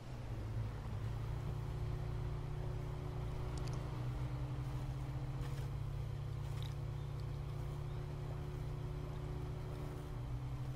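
Truck engine droning in the Snowrunner game on a hill, a continuous loud low rumble with a steady tonal hum as the wheels spin without grip, unbroken for the whole stretch.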